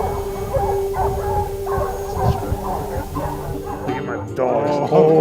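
Hunting dogs bark, yip and whimper excitedly while chasing a mountain lion in rough Utah hillside country, a mix of several dogs at mid-distance under people's talk.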